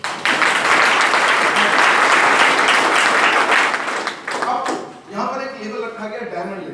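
Loud audience applause fills a hall at a company launch event, a dense sustained roar of clapping that fades after about five seconds as a voice and scattered claps remain.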